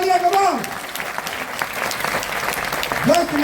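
Enthusiastic audience applause at a leadership programme, broad continuous clapping from a large crowd, with a voice or tonal sound briefly rising over it at the start and again near the end.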